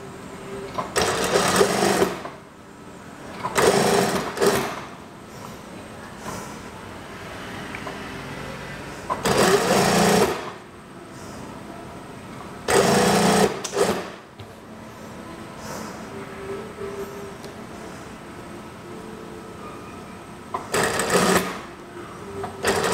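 A sewing machine stitches a regular-sleeve kimono house dress with a standard 1.5 cm seam, running in several loud bursts of a few seconds each, separated by quieter pauses.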